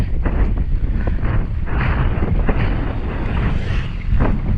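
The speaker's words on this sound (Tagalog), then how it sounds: "Malakas na yung hangin." Strong wind roars steadily into the microphone in heavy buffeting gusts, with water and hull sounds beneath, and no one speaking.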